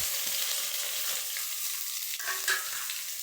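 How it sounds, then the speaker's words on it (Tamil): Onions, crushed garlic, ginger, fenugreek and spices sauté in a pan for a yam kuzhambu. A soft, steady sizzle runs throughout, with a few stirring scrapes near the end. "இதையும் வதக்கி எடுத்துடலாம்"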